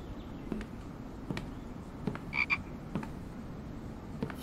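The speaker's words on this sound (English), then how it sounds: "I can see the frog through the wall" Frog croaking in a survival video game, a few short throaty croaks over a steady ambient hum, moderately faint and repeating at irregular intervals, with no talking.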